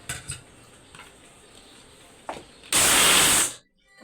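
A blender briefly grinds rice and peanuts for a peanut mash. It is one loud, harsh whirring burst of under a second, preceded by faint clinks and followed by quiet.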